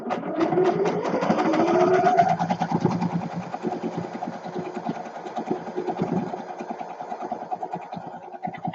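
Sewing machine stitching boho fabric scraps with a longer stitch setting, a steady rapid mechanical whirr and clatter running nearly throughout, fairly close, pitch rising briefly at the start, with no talking.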